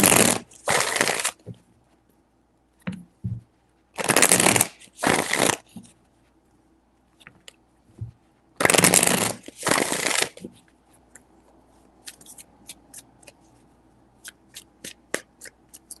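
A deck of tarot cards is riffle-shuffled in three distinct bursts of crisp, close fluttering, separated by quiet pauses, followed by scattered light taps and clicks as the cards are handled.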